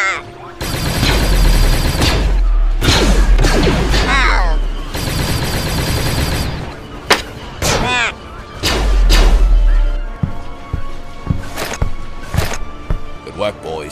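Battle droids firing blasters in a LEGO Star Wars animated battle: loud rapid bursts of laser fire and impacts in clusters, with short gaps and voices shouting between volleys.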